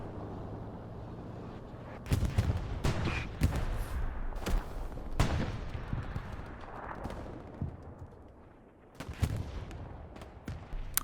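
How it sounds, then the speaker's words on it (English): An aircraft strafing run over the Mortain chapel area in the Hell Let Loose war game, with loud bursts of rapid gunfire and heavy impacts in several clusters over a rumbling battlefield background. "Strafing run flies above."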